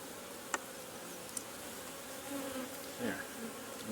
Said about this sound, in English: I can get the bees out of the way here,